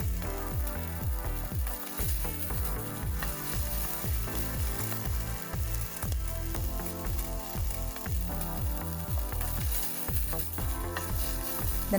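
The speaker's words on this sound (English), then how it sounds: "Add some olive oil, then add some garlic and add the asparagus stalks. We are going to cook them on high heat" Garlic and asparagus stalks fry in olive oil in a pan over high heat, giving a steady, continuous sizzle under rhythmic background music.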